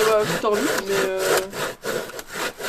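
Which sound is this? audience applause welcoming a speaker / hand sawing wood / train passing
hand sawing wood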